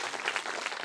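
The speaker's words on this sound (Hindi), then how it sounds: "जोरदार तालियों के साथ हम उनका स्वागत करेंगे।" An audience at a Shrimad Bhagwat Katha religious gathering in a pandal claps together, a short dense patter of many hands at steady volume filling the whole moment.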